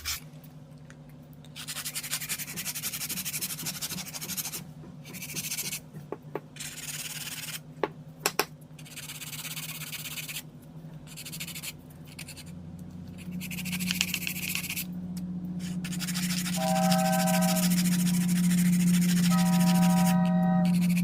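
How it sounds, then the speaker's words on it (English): Acrylic nails being filed to shape, a steady rasping rub in repeated back-and-forth strokes with brief pauses, close and fairly quiet, while a low hum rises toward the end. "file to get the shape back."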